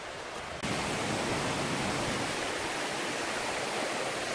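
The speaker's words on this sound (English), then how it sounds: "I believe this is Long Creek Falls" Long Creek Falls on the Appalachian Trail pours in a steady, loud broadband rush of falling water that jumps up in level just after the start and then holds constant and close.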